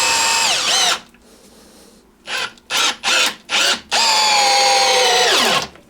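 A POPOMAN TECCPO 1/2-inch brushless cordless drill drives a 3-inch screw into solid wood without a pilot hole, loud whining bursts of the motor starting and stopping, a long run, a pause, several short pulses, then another sustained spin.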